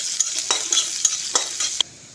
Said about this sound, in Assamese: এইখিনি ভালদৰে লৰাই লওঁ